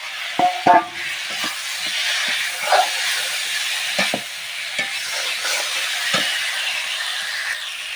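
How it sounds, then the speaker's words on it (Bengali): Fried potatoes being stirred into a cooked turmeric spice paste in a pan for a fish curry, giving a steady sizzling hiss with several sharp scraping stirs near the start and scattered clinks throughout; no one speaks. "এবার আলুগুলো দিয়ে কষিয়ে নিয়েছি"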